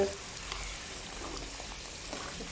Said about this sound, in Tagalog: Tapos ngayon maglalagay na tayo ng water.